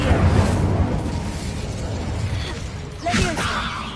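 Casting the Incendio fire spell in the video game Hogwarts Legacy gives a rumbling, crackling burst amid a dense game soundscape, with a sharper whooshing flare near the end.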